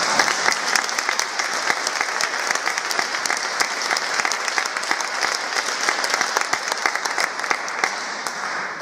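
Sustained applause from a live concert audience after a song, dense steady clapping filling the whole stretch, loud and close with no voices over it.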